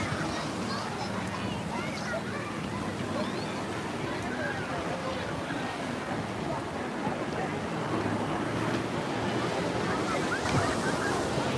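Ocean surf and swells at Waikiki Beach on Memorial Weekend make a broad, steady wash with wind noise across the microphone. It continues throughout at a fairly strong level, and a voice talks over it in places.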